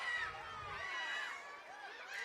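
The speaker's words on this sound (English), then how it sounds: "Crowd starting to pick up the energy here" Broad crowd noise fills a stadium during a U Sports women's soccer championship between Laval Rouge et Or and Cape Breton, a steady wash of chatter and cheering that swells slightly toward the end.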